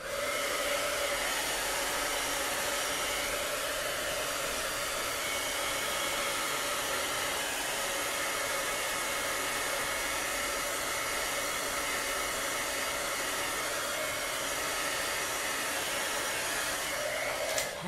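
A handheld heat tool blowing hot air over a chalk transfer on a chalkboard, a steady loud whirring roar that runs unbroken throughout with no talking.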